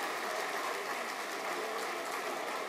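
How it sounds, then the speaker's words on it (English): A standing crowd applauds honored guests as they walk onto a stage, producing a continuous, fairly quiet wash of clapping with no voices on top. "they all get onto their feet and begin applauding."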